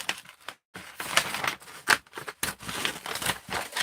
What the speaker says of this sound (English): So we're just going to keep using these scissors.